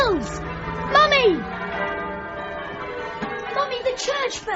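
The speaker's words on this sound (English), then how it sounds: "the church bells. Can you hear them?" Church bells ring out with a resonant, sustained tone while a child and an adult speak over them in an indoor drama scene.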